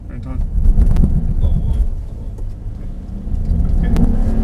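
A Mercedes-AMG SL63 accelerates on the Mercedes-Benz World race track, its engine a steady low rumble with wind noise throughout, swelling and easing over a few seconds while an instructor talks over it.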